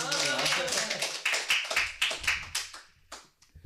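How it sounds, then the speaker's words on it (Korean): Scattered applause comes from a small audience at a Cheondogyo sermon, with uneven, separate claps that thin out and fade toward the end, while a voice speaks over the start. "박수 치셔야 될 것 같은데"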